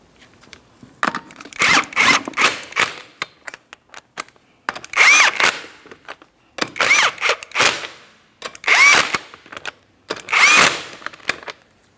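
An impact or power tool snugs the lug nuts on a 2004-2008 Pontiac Grand Prix front wheel during a brake job, running in several loud, close whirring bursts with short pauses between them.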